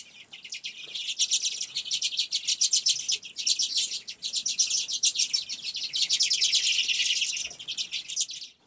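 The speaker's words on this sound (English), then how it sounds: "Common redpolls." Common redpolls calling in a steady stream of rapid, buzzy chattering notes, several birds overlapping in bursts, clear and close with no voices.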